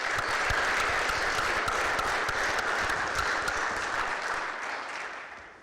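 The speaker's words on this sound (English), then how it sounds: "give them a round of applause." An audience at a talk gives the speakers a round of applause, with dense sustained clapping from a large crowd that holds steady for several seconds and then starts to taper off.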